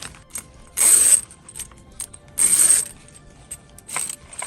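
Zipper tape pulled off a zipper roll for sewing a pouch: two short, raspy ratcheting bursts about a second and a half apart, close and fairly loud, with quiet room sound between them.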